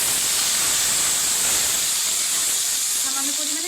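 Whole cumin and onion paste hit hot oil with a loud, steady hiss of sizzling and steam that holds for several seconds, close and uninterrupted, with no voices.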